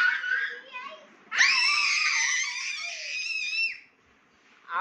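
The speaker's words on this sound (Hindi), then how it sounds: "आप इतना क्यों चीख रहे हो?" A young boy screams at length at home during an Eid celebration, a shrill sustained cry that starts after some brief vocal sounds and then breaks off, loud and close.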